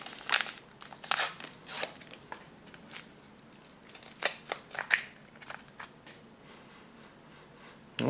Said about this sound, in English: It's almost effervescent, like one of those vitamin tablets, just bubbling away.